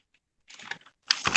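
Computer keyboard typing during a beginner Python programming lesson, a short burst of quick clicky keystrokes in two brief clusters after a moment of silence.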